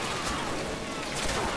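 Brief, continuous roar of gunfire in Call of Duty, a dense, noisy barrage heard at moderate level without clear gaps.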